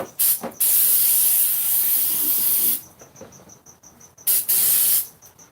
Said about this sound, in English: It's carb cleaner. Just real quick, spray off the bowl.